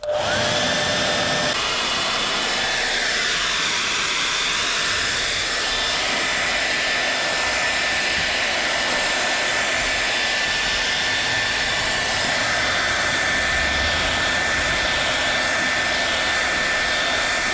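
Heat gun roaring steadily as it heats the fender of a Nissan 300ZX twin turbo, a loud continuous blowing hiss with a faint whine, close to the work and uninterrupted for the whole stretch.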